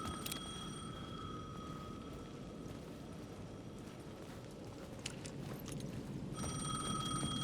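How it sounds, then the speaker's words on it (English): A payphone rings at the edge of a plaza in the video game Alan Wake 2. The ring comes in short bursts at the start and the end over a low, rumbling ambient bed, with no voices. "The payphone at the edge of the plaza was ringing again."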